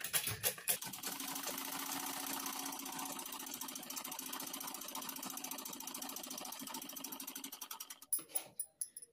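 A sewing machine runs steadily, laying a third line of stitching with a fast, even mechanical rattle that holds for about eight seconds. It then slows into a few separate clacks as it winds down. Nobody talks.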